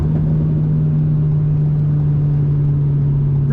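An Alpine A110 S on a wet Spa-Francorchamps circuit holds a steady, loud engine drone from inside the car, one sustained note with no audible talk.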